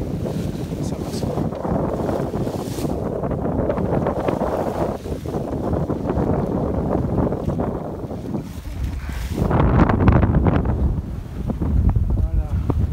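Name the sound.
sailboat under sail in the wind, no engine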